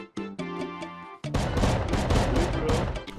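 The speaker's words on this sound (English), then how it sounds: "You shot a rocket and busted my shit up!" Rocket launched in the survival game Rust: a tonal pickup chime gives way to a sudden loud blast and a sustained roaring, crackling rumble of debris and fire for a couple of seconds.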